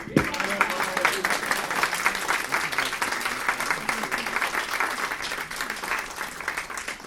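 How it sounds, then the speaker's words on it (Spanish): An audience at a presentation at a Fnac store breaks into sustained applause, a thick continuous wash of clapping from a sizeable crowd lasting the whole stretch, with scattered shouts and voices blended into it. "otra vez yo voy a pedir para él un aplauso y unos gritos de ¡Viva Rafael, viva Rafael!"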